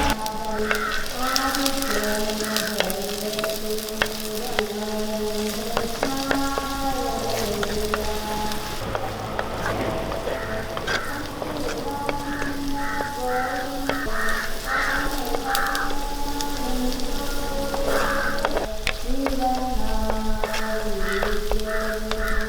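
Crushed shallots, garlic and curry leaves sizzle in hot coconut oil for a parippu lentil curry, a soft continuous crackle beneath loud, repeated crow caws nearby.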